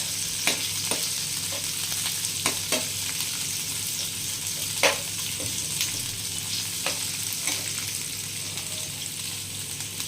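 Whole chillies and garlic cloves roast gently in a pan beside browning onions, a soft continuous sizzle broken by regular light scrapes and taps of a stirring spoon, with no voices.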